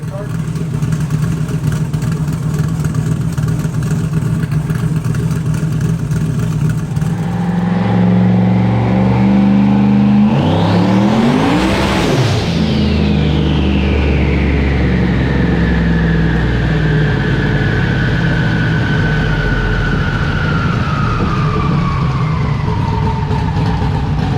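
A 1,000+ hp car engine on a dyno pull idles with a deep rumble, then revs hard in a rising sweep to a screaming peak before the pitch falls away. The sound is loud and close throughout.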